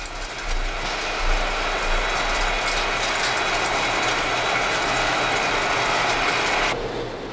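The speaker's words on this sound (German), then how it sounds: "Die Radreifen werden abgedreht," A wheel lathe turns a locomotive's wheel tyres in pairs at the same time, giving a loud, steady grinding and hissing machine roar that holds even for about seven seconds, then drops off abruptly near the end.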